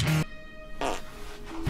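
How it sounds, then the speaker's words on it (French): A fart sound gag in a scene from the Peter Pan film Pan, a short loud buzzing blast at the start followed by softer, rougher fart bursts, alone without speech. "Ça pue. Qui a pété?"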